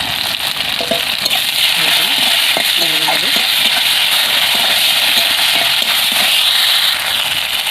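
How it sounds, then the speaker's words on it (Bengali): Tomato and onion frying until browned in a pan, giving a loud, dense, continuous sizzle with crackling pops and stirring clatter, while a voice faintly speaks underneath. "এবারে টমেটোটা লাল লাল করে ভাজা হয়ে গেছে"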